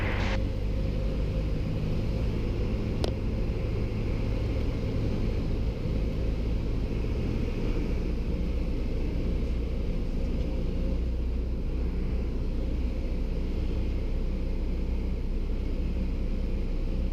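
Light aircraft on final approach to land at Gloucester Airfield: a steady, continuous low engine and cabin drone heard from inside, with broadband rumble holding level throughout and no voices.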